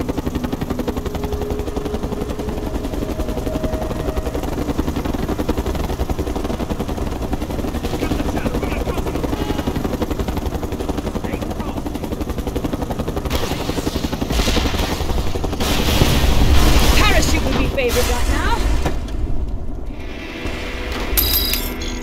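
Helicopter from the Mercenaries 2 video game, a steady rotor and engine drone running throughout amid a mechanical rattle, building louder toward the end with bursts of gunfire and combat noise.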